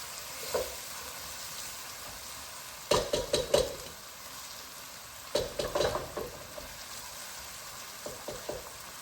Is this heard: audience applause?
no